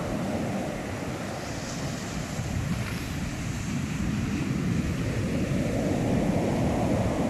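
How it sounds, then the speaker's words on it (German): Ocean waves break and wash onto the beach in a steady, loud roar under gusting wind on a Christmas beach walk, with no speech. "weil da eine richtige Welle kommt"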